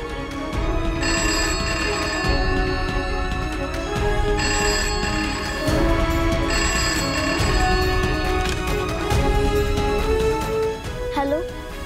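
A telephone rings repeatedly in regular bursts, loud and close, over a busy background with music-like tones.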